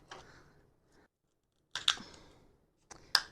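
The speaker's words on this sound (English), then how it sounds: "I need to cut the holes at the bottom" Scissors snip drainage holes in the bottom of a plastic plant cup, a few sharp close cuts arriving in two short clusters separated by silence.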